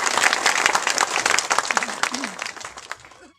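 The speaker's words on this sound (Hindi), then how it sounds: "जोरदार तालियां।" A village ceremony audience bursts into loud, dense applause that lasts a few seconds and then tapers off as the clapping fades out.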